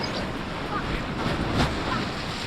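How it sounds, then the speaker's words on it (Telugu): Water splashing and rushing at Nagarjuna Sagar Dam, a steady broad wash of surf-like noise with wind buffeting the microphone, fairly loud and close, a brief louder surge near the end. "వాటర్ చూసారా ఎట్లా స్ప్లాష్ అవుతున్నాయో"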